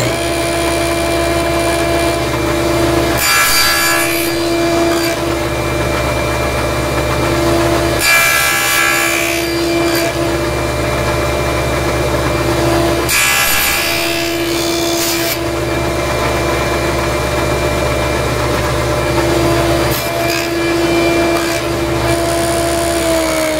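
Hand sawing through wood to clear waste from a finger joint, steady back-and-forth strokes in bursts separated by short pauses, with a constant low hum in the room.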